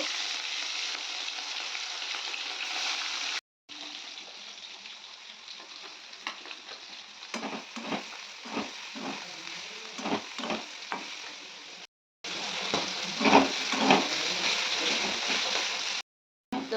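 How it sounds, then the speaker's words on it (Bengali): Salted, turmeric-coated fish frying in oil in a wok: a loud, continuous sizzling hiss with a few stirring bursts, broken by two short silent cuts. "অন্যদিকে কড়াইয়ের মধ্যে তেল দিয়ে দিয়েছি দেখতেই পাচ্ছেন একদম মাছ ধুয়ে নোন আর হলুদ মাখিয়ে রেখে দিয়েছি আর এবার মাছটাকে ভেজে নেওয়া হবে"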